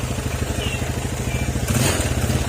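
A Yamaha Sporty motorcycle engine with a stalling fault idles close by with a steady, rapid putt-putt rhythm, briefly rising in pitch and clatter partway through.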